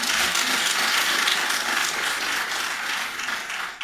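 Sustained applause from a large audience greeting South African President Ramaphosa's announcement of Microsoft's investment, a dense, steady wash of many hands clapping at even loudness throughout with no speech over it.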